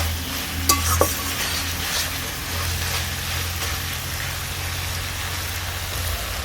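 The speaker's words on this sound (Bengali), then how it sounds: "মশলার সাথে আবার বেশ কিছুক্ষণ মোচাটাকে আমি ভালো করে কষাতে থাকবো।" Chopped banana flower sautéing with spices in a pan for a vegetable ghonto, giving a steady close sizzle with a couple of sharp utensil knocks near the start and continuous frying hiss throughout.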